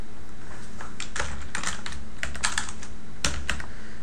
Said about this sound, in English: And I press enter.